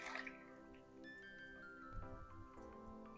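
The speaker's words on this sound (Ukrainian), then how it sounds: "До миски вливаю молоко" A thin stream of milk trickles and splashes into a bowl, quiet and close, with a faint ringing tone beneath.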